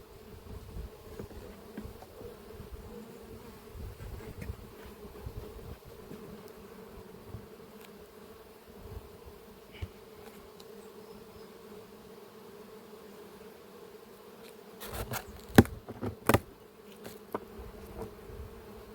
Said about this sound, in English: That hectic noise at the front of the colony is all the bees coming back in